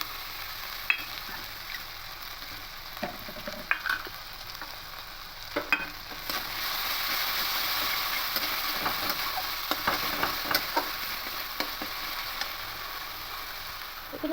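Tomato paste sizzles and fries in a pan with steady hissing, while a spoon scrapes and clinks against the pan from time to time.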